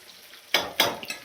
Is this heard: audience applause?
no